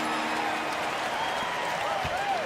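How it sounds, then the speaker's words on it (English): A basketball arena crowd in the video game NBA 2K23 applauds and cheers steadily, a dense, continuous wash of clapping with faint voices mixed in. "Let's give a round of applause for your Thunder girls dancing."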